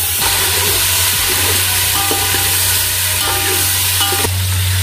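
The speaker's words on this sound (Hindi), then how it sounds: "जो हमने अखरी करी थी उसका गोश्त डालेंगे।" Meat is added to a hot pan for Moradabadi biryani and fries with a loud continuous sizzle and hiss, broken by occasional stirring scrapes, close and steady throughout.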